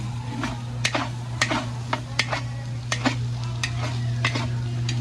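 A utensil clanks repeatedly against a pan while Thai food fries with a steady sizzle, the stirring strokes landing in a loose rhythm close by, with no one talking.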